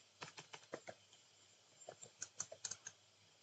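Quiet keyboard typing while entering a Java program, two bursts of quick, close key clicks separated by a short pause, with no talking.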